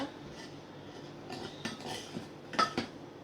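Sugar stirred in a bowl gives quiet clinks and scrapes of a spoon against the dish, a few soft strokes and a sharper clink near the end, faint and close with no talking.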